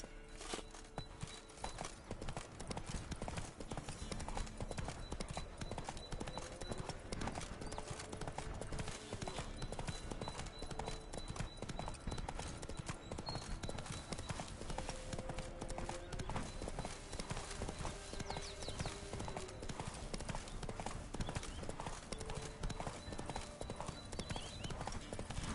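A horse's hooves gallop steadily in The Witcher 3: Wild Hunt, a fast, continuous clip-clop rhythm that keeps going for the whole stretch, with faint game ambience underneath.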